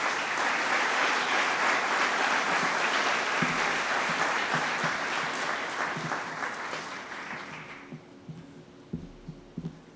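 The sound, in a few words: audience applause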